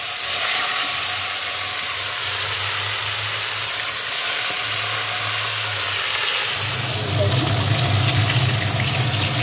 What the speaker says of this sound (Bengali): মাছগুলো ভাজার পালা।